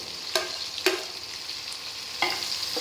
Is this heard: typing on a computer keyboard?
no